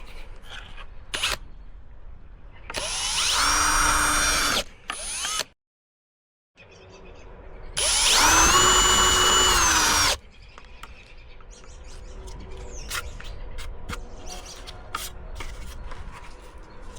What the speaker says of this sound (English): And now we'll just have to drill these 4 holes here.